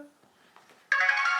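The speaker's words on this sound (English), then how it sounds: "Even the listeners at home will know that sound that comes on when you first load up the game." Supercell startup jingle from the video game Clash Royale: after a near-silent lead-in with a faint voice, a bright, loud tonal chime suddenly begins and holds steady.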